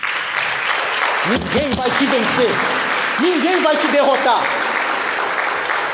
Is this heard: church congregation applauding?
yes